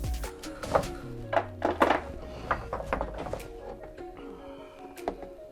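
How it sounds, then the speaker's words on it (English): A plastic gas tank skid plate is pulled off a Toyota 4x4 after its 12 mm bolts come out: a series of irregular hollow plastic thunks, knocks and rattles nearby, moderately loud, with short pauses between. "that's gonna pull this plastic skid plate off"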